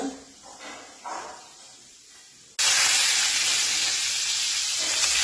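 Oil in a pan for tempering bursts into a loud, close hiss and sizzle partway through, after quieter kitchen sounds and faint talk, then holds steady to the end.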